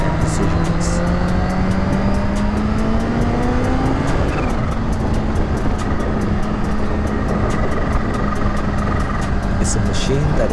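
A Kawasaki Ninja H2 motorcycle accelerates on a ride, its engine note climbing steadily for a few seconds and then holding a loud, continuous roar mixed with heavy wind rush.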